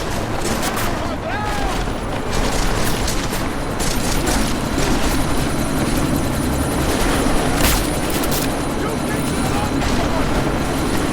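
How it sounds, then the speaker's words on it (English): A helicopter in the Deus Ex: Mankind Divided game lifts off, its loud rotor thump and turbine whine mixed with gunfire bursts and explosions while a voice shouts over the din. "That chopper's about to take off!"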